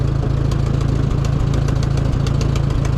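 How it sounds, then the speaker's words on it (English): A Ford tractor engine idles steadily nearby, its low, even rumble running throughout with a regular beat and no voices. "This thing's a nice tractor. If you're a Ford man, this could be for you"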